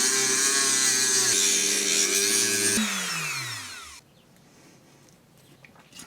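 A small power tool whines loudly while cutting away the rim of a plastic Christmas bauble, changing pitch as it bites, then spins down and stops, leaving near silence.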